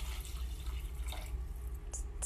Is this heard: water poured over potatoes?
yes